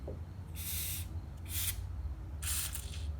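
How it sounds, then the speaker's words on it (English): Three short bursts of silicone aerosol spray hissing onto a cotton ball, close and steady, with brief pauses between them over a low background hum. "Take the spray, put it into the cotton ball."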